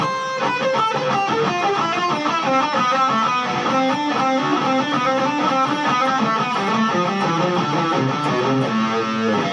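An electric guitar plays a flowing lead progression of overlapping melodic notes, steady and moderately loud, with slight distortion and no voices.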